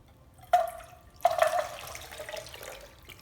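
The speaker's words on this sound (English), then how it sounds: "I'm gonna put my cashews and my water. So I'm just gonna pour this in." Water splashes over cashews into a bowl in two short pours, the second longer, trickling off into quiet.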